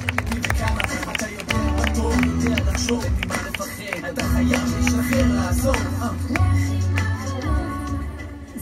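Stormy applause for the school principal at a Rimonim school sixth-grade graduation party in Ashdod, a loud sustained crowd clapping with music playing underneath.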